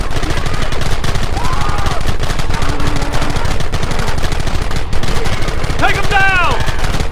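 Heavy, sustained gunfire in the video game Red Dead Redemption, loud and continuous with rapid overlapping shots, mixed with brief whistling or ricochet-like tones.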